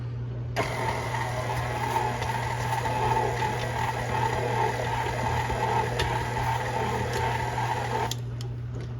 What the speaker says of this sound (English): We're just gonna drop our dough hook down, turn our mixer on.